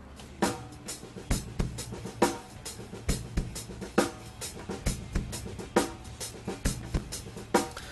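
A raw acoustic drum kit plays a steady beat, kick and snare hits with cymbals, sounding dry and somewhat thin, with no talking.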